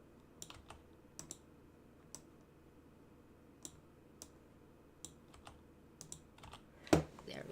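Keyboard typing during play of the game Disney Dreamlight Valley: sparse, quiet clicks at irregular intervals over a low background hum, ending in a louder clack at the close.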